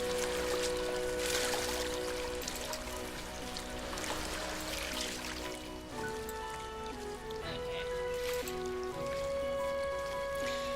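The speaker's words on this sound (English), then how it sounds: "the relaxing sound of a rushing river is just up ahead" A rushing river flows in a steady, continuous wash of water close by, with overlapping tonal music and a brief spoken word on top.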